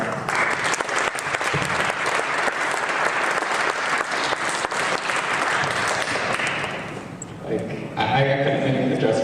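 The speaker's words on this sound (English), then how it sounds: "can we all just give everyone another round of applause?" Audience at a coffeehouse show clapping loudly and continuously for several seconds, tapering briefly before a fresh surge, with some voices mixed in.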